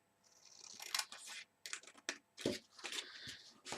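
Scissors cutting a small notch into the edge of a paper card, several crisp close snips in quick bursts, quiet and without speech.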